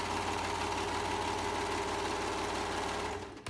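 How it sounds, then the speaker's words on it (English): A serger sewing machine stitching down the sleeve of an adult hoodie, running close and loud with a steady, even whir that cuts out at the very end. "So I'm sewing all the way down the arm."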